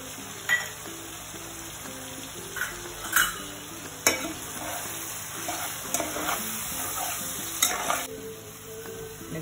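Garam masala being stirred into a chicken gravy in a pan, with a low steady sizzle under scattered spoon scrapes and clinks against the metal, close and moderately quiet, no voices.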